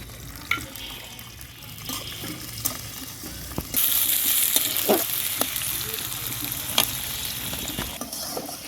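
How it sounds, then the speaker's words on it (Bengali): Garlic cloves fry in hot oil with a close, crackling sizzle that swells louder partway through, while a few sharp clinks and stirring scrapes cut in and a faint trickle of water runs underneath. "এই যে এখানে কয়েকটা রসুনের কোয়া নিয়েছি, এটা এখন তেলে দিয়ে দেব"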